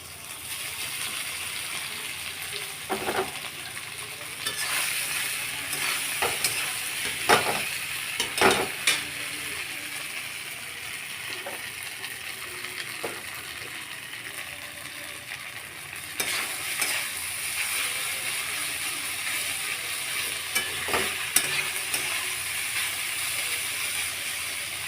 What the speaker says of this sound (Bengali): এবার আমি এক এক করে প্রথমে চিড়েগুলো দিয়ে দেবো।